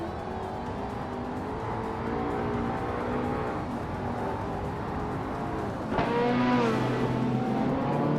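Race car engines roar steadily in a racing video game as cars battle for position, with a sharper rising rev and a whoosh of an overtaking car near the end; no talking.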